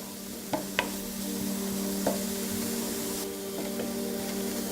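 Onion braising with butter in a pot, with a steady soft sizzle and hiss under a low hum and a few light clinks of a utensil against the pot.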